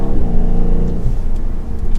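A 2022 BMW Alpina B7 xDrive pulls hard under acceleration, its engine note climbing in a loud, smooth, rising drone heard from inside the cabin, easing slightly toward the end.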